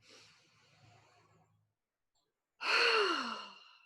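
A person draws one deep, audible breath in, loud and close, following a quieter stretch of soft breathing and a brief silence, during a guided relaxation tapping exercise.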